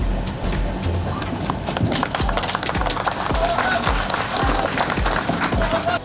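An audience at an Indonesian event welcoming Agriculture Minister Amran Sulaiman claps steadily in a dense, even burst of applause, with a voice talking over it.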